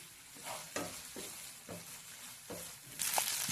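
Green chilli pieces stir-frying in a pan with curd and onion leaves in a village kitchen, a steady close sizzle broken by a few scraping stirs of the spoon, louder toward the end.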